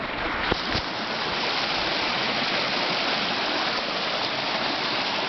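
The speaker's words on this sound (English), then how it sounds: "Got a little waterfall" A small waterfall splashing over rocks in a dry Southern California riverbed, a steady close rushing hiss of falling water with a couple of brief knocks near the start.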